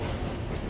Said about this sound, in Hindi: दोस्तों साथ ही ट्रेन हमारी अप्रोच बना रही है इस वक्त।